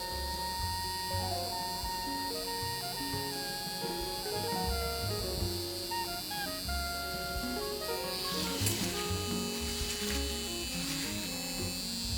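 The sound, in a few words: nano hair stroke PMU machine motor running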